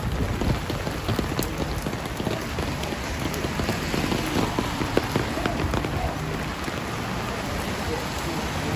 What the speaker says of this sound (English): It's raining a lot heavier now.